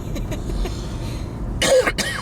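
Two sharp coughs close to the microphone follow a stretch of low background rumble, the second cough coming just after the first.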